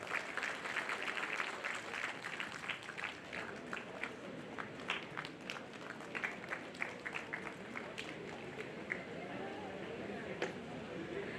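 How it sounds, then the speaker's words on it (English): Graduation day audience at an engineering college in Bangalore applauds the director, a sustained wash of many hands clapping at moderate distance with a few sharper claps standing out and faint talk beneath. "Please join me in opening a big round of applause to our Director C.M."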